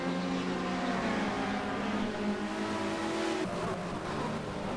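Touring race cars from the 1990 WTCC race on the Nordschleife roar past, engines revving hard and continuously as one car overtakes another, a dense steady engine drone with shifting pitch.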